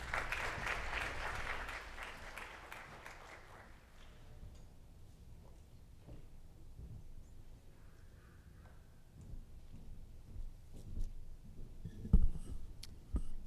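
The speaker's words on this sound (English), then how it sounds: "A round of applause for Isha." Audience applause at a FIFA women's football symposium, a broad burst of clapping for roughly the first four seconds that then fades into quieter room noise and scattered sounds.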